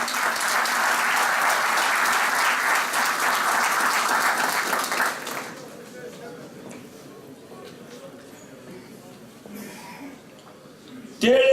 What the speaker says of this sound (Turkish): Burada bir alkış alalım.